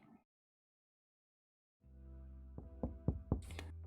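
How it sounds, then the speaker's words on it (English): A door in a dating-sim video game is knocked several times in a quick run of sharp raps over steady in-game background music, after a brief silence. "I knocked on the door to the games room."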